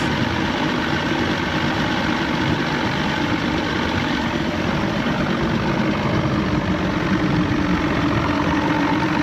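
Evinrude 150XP outboard motor on a McKee Craft boat idling roughly with a fuel-starved loss of power, a steady low rumble with faint knocking vibration running close and loud throughout, no voices.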